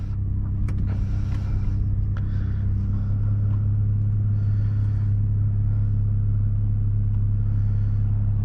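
Inside a 2021 Toyota Supra with a muffler delete and downpipe, windows up, backing out of a driveway. The engine gives a steady, deep low-frequency drone and rumble throughout, with faint mechanical clicks.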